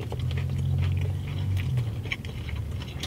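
Bites and chewing of a McDonald's sweet barbecue bacon chicken sandwich with fried chicken patty, crunchy bacon and crispy onions, close crunching and mastication sounds over a few seconds with no talk.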